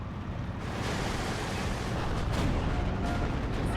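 Anti-tank gun fire in the WWII strategy game Steel Division 2, a dense, continuous rumbling wash of battle noise with booming low end and no clear separate shots, steady and loud throughout.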